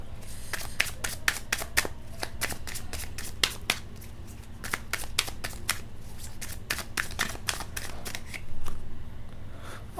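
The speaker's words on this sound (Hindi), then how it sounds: "कार्ड्स लेते हैं और देखते हैं।" Tarot cards being shuffled by hand, with repeated quick riffling bursts in steady clusters across the whole stretch over a low constant hum, close and moderately loud, no talking.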